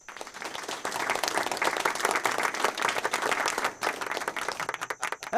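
A studio audience on a Turkish Ramadan game show applauds the contestants, starting quietly, then swelling into thick, lively clapping that holds steady before thinning and breaking into scattered claps toward the end.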